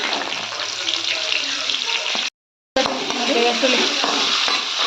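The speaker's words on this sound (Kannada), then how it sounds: "ಇದನ್ನು ಸ್ವಲ್ಪ ಎಣ್ಣೆ ಫ್ರೈ ಮಾಡ್ಕೊಳ್ಳೋಣ ಹಸಿ ವಾಸನೆ ಎಲ್ಲ ಹೋಗೋವರೆಗೂ" Onion, coriander leaves and cashews fry in oil for a paneer gravy, giving a steady, fairly loud crackling sizzle with stirring scrapes. A brief silent gap breaks it in the middle, and the sizzle resumes after.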